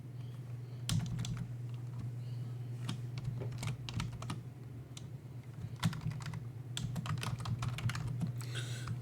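Someone types a Linux command on a computer keyboard, producing irregular soft clicks and keystroke taps, fairly close and quiet, over a low steady hum, with no talking.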